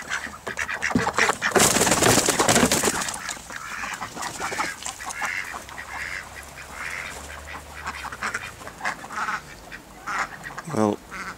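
Ducks quack in short repeated bursts amid outdoor shuffling and rustling in winter snow, with a person speaking briefly in the background.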